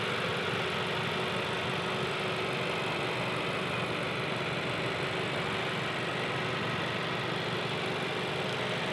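A steady 2017-2018 Honda Civic Si turbo four-cylinder engine idling with an even mid-range hum, constant and close, no voices.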